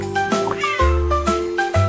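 Within a children's song, a cat meows several times in a high, tonal voice over sustained musical notes, loud and close.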